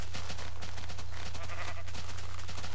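Sheep in Minecraft bleat over a steady low game hum, a flock of repeated short cries overlapping at moderate loudness with no talk.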